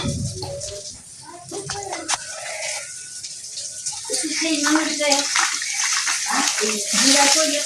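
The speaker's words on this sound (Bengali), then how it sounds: "এখানে গামলাতে এখন একদম ভালো করে মেখে মাংসটা একটু কিছুক্ষণের জন্য ধুয়ে দেবো।" Tap water runs steadily into a bowl while chicken meat is washed, with splashing that swells toward the end. Voices talk faintly in the background.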